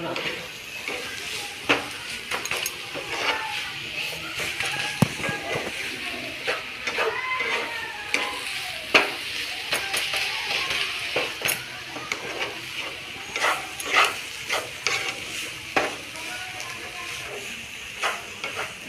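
A spoon or spatula stirs a cooking mixture in a pan, with repeated scraping and knocking strokes over a soft sizzle and a quiet voice in the background.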